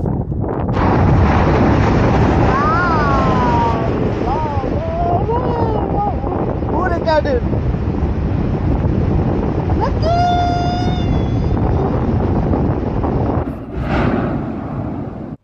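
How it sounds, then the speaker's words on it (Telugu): Strong wind buffeting at the rim of Mount Yasur, an active volcano in Vanuatu, roaring loudly and continuously against the microphone, with faint voices heard beneath the gusts. "ఆ గాలి కిందకు లాగేస్తుంది ఏదో."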